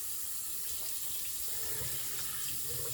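Tap water running into a sink as a microfibre cloth is rinsed, a steady faint splashing wash without pauses, quiet and close.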